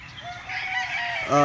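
A rooster crows close by, a loud drawn-out call that rises and breaks into a harsher tone at the end.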